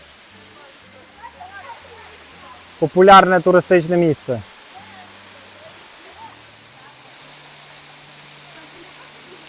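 The Velykyi Maniavskyi waterfall on the Maniava river in the Carpathian mountains gives a steady, soft rushing roar throughout, with a voice speaking briefly over it in the middle.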